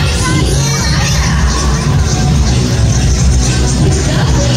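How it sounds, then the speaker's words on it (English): Broad crowd noise from an audience at a sea lion show, steady and fairly loud for several seconds with applause and shouting children blended into a dense wash. "A round of applause for Nancy and Aya."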